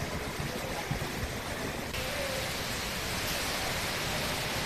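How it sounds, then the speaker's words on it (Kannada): Heavy evening rain with hail falling across Bengaluru streets, a dense steady roar of downpour that stays loud and even throughout, with no voices. "ಇವತ್ತು ಕೂಡ ಸಂಜೆ ಆಗ್ತಿದ್ದಂತೆ ಆಲಿಕಲ್ಲು ಸಹಿತ ಮಳೆಯಾಗಿದೆ."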